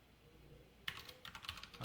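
Quick, light keystrokes on a computer keyboard while code is typed, a soft irregular patter of clicks starting after a brief quiet moment, fairly faint and close.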